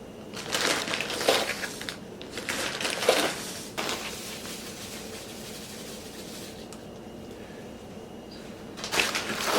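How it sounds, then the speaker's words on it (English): Coarse 60/90 silicon carbide grit poured into a rock tumbler barrel, a gritty crunching, rattling pour in several close, loud bursts separated by quieter gaps. "we're going to put 11 tablespoons of the step 1 grit, which is 6090 Silicon Carbide"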